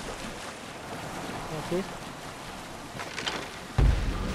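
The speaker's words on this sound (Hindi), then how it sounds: "तो ये साउंड बहुत मज़ा करती है, वाटर पानी की साउंड" Ambient water in Assassin's Creed Odyssey washes and laps as a steady, soft, airy wash with a brief splash near the end, while someone speaks briefly over it.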